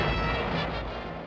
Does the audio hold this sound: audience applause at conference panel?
no